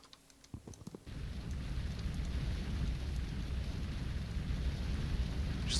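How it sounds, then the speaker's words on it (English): Fire crackling and roaring steadily as a tree burns in the Minecraft FTB modpack, a dense continuous hiss that swells in after a second of quieter clicks and holds loud and close. "Just looks like it breathes fire forever"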